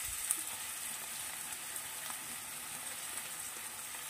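Flat beans frying in a pan with oil, before salt and turmeric go in. A steady, close sizzle and hiss runs evenly throughout, with no talking.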